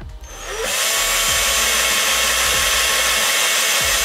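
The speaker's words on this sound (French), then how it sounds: "ne pas forcer avec la perceuse, il faut y aller tranquillement" Power drill boring holes in the thick plastic canopy bubble of a BoltRC Kraken FPV drone, a loud steady broadband whine that holds for several seconds, with a few low knocks underneath.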